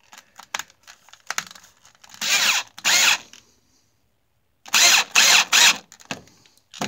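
A power drill whirs in five short bursts, two close together and then three quick ones after a pause, with light clicks and handling noises between.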